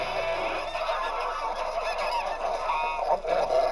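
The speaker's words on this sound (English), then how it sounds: "Perhaps due to their angry-sounding honk, geese have earned the reputation of being rather grumpy birds." A flock of geese honking together, overlapping nasal calls rising and falling continuously, fairly close and loud, with no talking.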